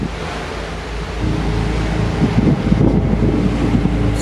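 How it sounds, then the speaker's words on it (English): A storm at sea on the Atlantic Ocean, heard from a cruise ship's balcony high above the lifeboats: a steady, loud roar of wind buffeting the microphone over a broad rush of waves, swelling slightly in the second half. "there's a storm going on out in the Atlantic Ocean"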